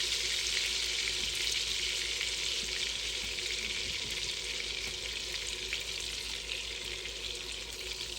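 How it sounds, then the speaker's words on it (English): Smashed potatoes fry in a pan of melted butter and olive oil, giving a steady, dense sizzle and crackle with occasional stirring, close up and without talk. "Then we'll just start throwing in these smushed potatoes that we did earlier."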